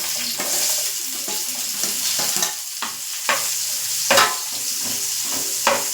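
Chopped garlic and onion sauté in a hot pan for a Kathiyawadi-style dahi tikhari, a steady close sizzle broken by repeated scraping stirs of a spoon against the pan, with no talking.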